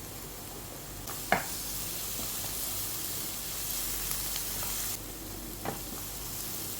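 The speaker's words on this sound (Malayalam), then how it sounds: "അതിലേക്ക് കുറച്ച് കറിവേപ്പില ഇട്ട് കൊടുക്കുന്നുണ്ട്." Curry leaves and chili flakes sizzle in a hot pan with a loud, continuous frying hiss, broken by a couple of sharp crackling pops and a shift in intensity as ingredients are stirred in; no voices.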